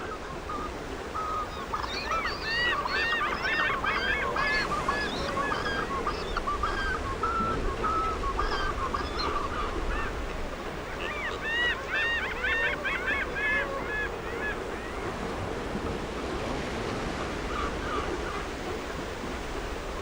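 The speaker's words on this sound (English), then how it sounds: "The proximity of the Pacific Ocean and the numerous lakes attract water birds from the Patagonian region" Many water birds honk and call in bursts over a steady wash of wind or water in Torres del Paine, Chilean Patagonia, the chorus rising and fading throughout.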